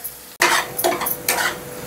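Ground masala dropped into hot oil in a pan bursts into a loud, bright sizzle after a brief clatter, crackling on with short surges as it is stirred, heard close up and alone.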